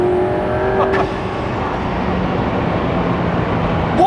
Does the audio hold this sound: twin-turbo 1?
yes